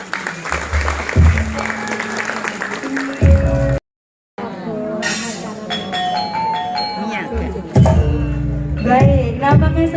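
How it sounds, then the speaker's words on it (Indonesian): An audience claps for the puppet master at a wayang golek show in Bandung, steady applause running under bright bell-like angklung tones and a brief dropout midway. "Big applause for Ki Dalang."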